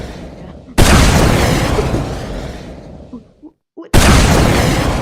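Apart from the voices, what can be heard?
rocket launcher explosions in a video game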